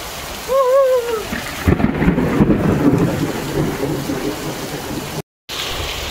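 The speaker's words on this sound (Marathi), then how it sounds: "पहा समोर असा पाऊस पडतो" Heavy monsoon rain pours down in a dense, steady hiss with low rumbling, close and loud throughout, after a brief voice at the start.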